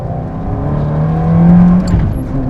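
The new Lancia Stratos sports car revving hard in second gear, a loud, close engine note climbing steadily in pitch and holding high revs for a couple of seconds before easing slightly.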